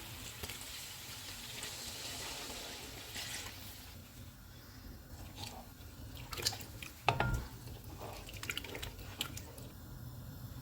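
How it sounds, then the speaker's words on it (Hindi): Water goes into a pot of aloo chicken shorba, heard as quiet splashing, dripping and liquid sloshing with a louder burst midway, close and without speech. "मैंने इसमें 4 कप पानी डाला है।"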